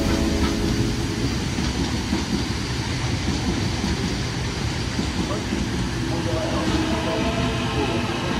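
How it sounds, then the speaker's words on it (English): An Oscar H set train passes through Erskineville station, a loud sustained rumble with rhythmic clickety-clack of wheels over rail joints filling the whole stretch. "starting with an Oscar HSAT"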